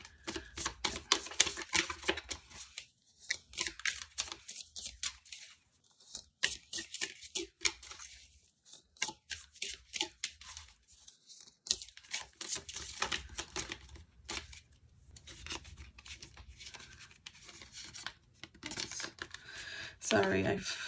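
Tarot cards are shuffled in quick, crisp riffling bursts, repeated several times close up, with faint talking in between.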